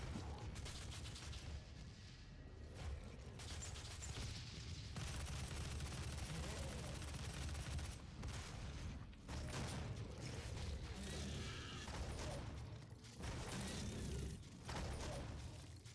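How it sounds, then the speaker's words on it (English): Shotgun blasts and other gunfire in a video game, loud sharp bursts repeating irregularly amid dense, busy combat noise throughout. "that's a shotgun"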